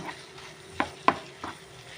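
Butter garlic prawns being stirred in a pan, three quick spatula scrapes and taps over a faint sizzle, no talk.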